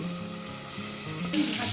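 A hilsa fish head frying in a pan, heard as a brief, close, continuous sizzle with faint crackling and no speech.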